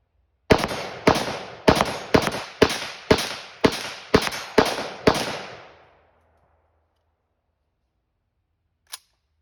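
Nine rapid rifle shots from a Palmetto State Armory AK556 crack out in an even cadence, loud and close with echoing tails, followed after a silence by a single faint click.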